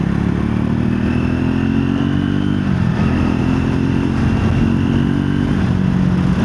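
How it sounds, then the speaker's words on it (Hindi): A Triumph Scrambler 400 XC motorcycle with a double-barrel exhaust rumbling loud and close, a steady deep engine note with a brief dip and recovery in revs midway. "इसका एग्जॉस्ट नोट काफ़ी शानदार है, क्योंकि इसमें डबल बैरल एग्जॉस्ट नोट है"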